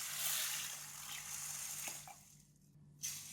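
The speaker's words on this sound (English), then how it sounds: "Wash it with water." Water runs into a basin of red beans as they are washed for sweet red bean paste, a steady splashing rush that thins out near the end, with a small knock and a brief burst of splash.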